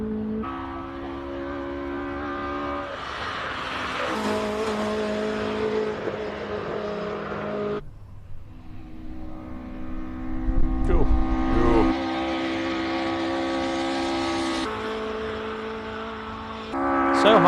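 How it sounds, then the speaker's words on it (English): Datsun GX Coupe racing in a naturally aspirated classic car race at Simola, engine droning loudly and steadily with gear changes and revs rising and falling, plus a brief louder burst midway, under a commentator's talk. "This is Ian Kilburn in the GX Coupe"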